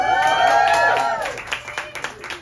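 A wedding audience claps after a family speech, with a brief burst of hand claps and a few scattered claps trailing off as a voice and tonal sound fade in the room.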